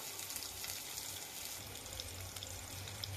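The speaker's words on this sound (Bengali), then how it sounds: "কথা বলতে বলতে আমার তেল গরম হয়ে গেছে, আমি পেঁয়াজ কুচি দিয়ে দিলাম, কয়টা কাঁচামরিচ দিয়েছি" Chopped onion and a few green chillies fry in hot oil for a country duck curry, making a continuous faint hiss and crackle with tiny pops, steady and unaccompanied by voices.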